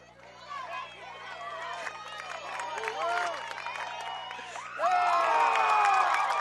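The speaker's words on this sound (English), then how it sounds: "look at this Pleasant Grove crowd getting even a ball, and they're just going wild" A Pleasant Grove softball crowd at a high school championship final cheers and shouts, rising into a loud wild roar near the end, with a commentator talking over it.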